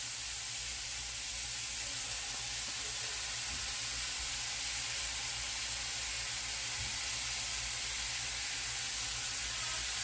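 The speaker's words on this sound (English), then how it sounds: "you can hear that sizzling" Loud, continuous sizzling of cabbage frying in a hot skillet, a steady hissing crackle close up with a low hum underneath and no talking.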